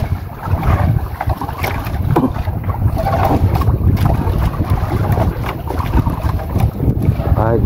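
Out on open water from a fishing boat as a large wooden outrigger boat passes, heavy engine rumble mixed with strong wind buffeting the microphone and splashing water, loud and constant, with voices briefly underneath.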